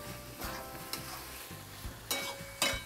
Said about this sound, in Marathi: आता ह्याच्यामध्ये ही पेटा आणि कलेजी, हे अर्धा किलो आहे, हे चांगलं मिक्स करून घेऊया